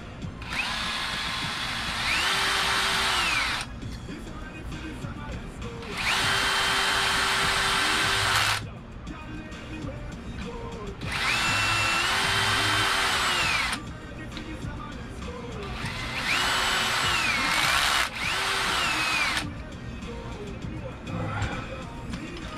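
A power drill tightens screws on the rear differential of an Arrma Kraton EXB RC car, whining in four bursts of a few seconds each, separated by pauses filled with faint clicks and handling noise.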